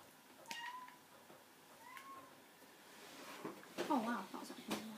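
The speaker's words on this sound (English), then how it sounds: "You may not have just heard my cat then" A pet cat meowing indoors, several short, faint calls spread across the moment, partly under a voice talking over a football video game.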